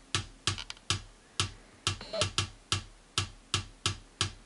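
Untriggered kick drum played on its own, a steady series of about a dozen punchy, fairly close hits at an irregular, rhythmic pace, with little low-end boom.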